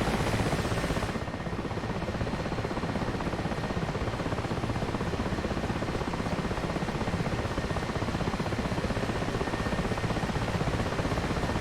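An Mi-8 helicopter heavy lifting through a snow storm in a flight video game, a dense, unbroken roar of rotor and engine noise mixed with wind, loud and steady for the whole stretch.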